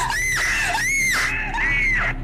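A woman screams in terror in a frightening night setting, three long, loud, high-pitched shrieks one after another at close range, each rising and falling, with no talking over them.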